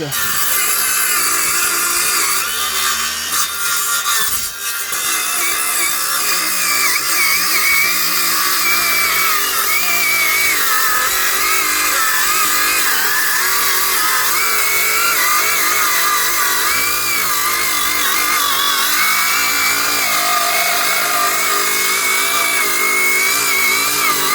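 A handheld circular saw cuts a thin strip from a wooden board, a loud, continuous high whine and buzz that holds steady for the whole stretch with small shifts in pitch as the blade works through the wood, with no talking.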